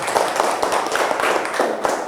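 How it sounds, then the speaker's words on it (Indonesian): A small classroom group claps for a discussion group's presentation, sparse uneven handclaps with some louder individual claps, close and brief. "Silakan berikan tepuk tangan."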